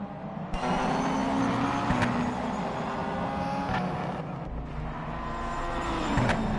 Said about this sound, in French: Alex qui s'élance pour un premier tour chronométré